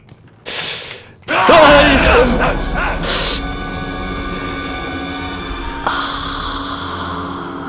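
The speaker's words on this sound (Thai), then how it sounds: "คุณผู้ชมเมื่อกี้ผม ตะโกนเสียงดังมาก" A streamer lets out loud frightened shouts and gasps while playing the horror game Outlast, two sharp bursts of yelling over dark game ambience and a steady mechanical rumble from the game.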